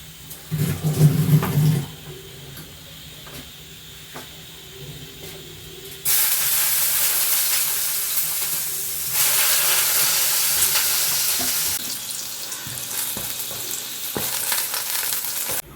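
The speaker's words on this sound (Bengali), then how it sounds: "অল্প তেলে বেগুন ভাজা তো একটু চাপা দিয়ে দিয়ে ভাজলে তাহলে তাড়াতাড়ি হয়ে যায়।" Eggplant slices frying in a little oil, a steady close sizzle that turns to loud broadband hissing bursts as slices are pressed down, with no talking.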